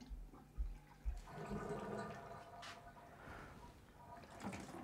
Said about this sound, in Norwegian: Da åpner jeg krana.